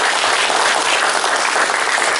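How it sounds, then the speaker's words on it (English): Audience applause fills a lecture hall as a speaker is welcomed at a chestnut growers' conference, steady, dense clapping that holds at an even loud level throughout with no voices over it. "Everybody needs to give her a good round of applause."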